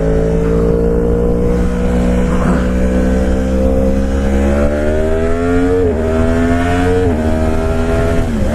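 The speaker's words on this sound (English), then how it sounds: "What was that, a V-Strom?" A Suzuki V-Strom motorcycle rides past with a loud, steady engine drone whose pitch climbs and shifts through gear changes over several seconds, close by and with no talk.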